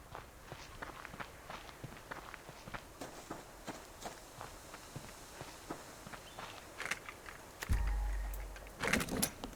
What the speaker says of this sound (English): I thought I heard footsteps behind me